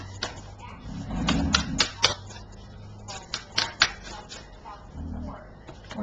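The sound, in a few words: shuffling tarot cards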